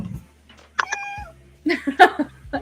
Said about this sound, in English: I'm a cat.